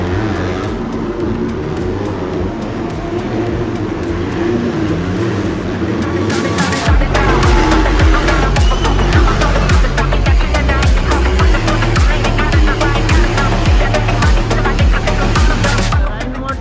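Supercross racing motorcycles at an Indian Supercross Racing League event roar past in a dense, loud engine drone that swells into sharp revving partway through, with crowd noise and possible commentary mixed underneath.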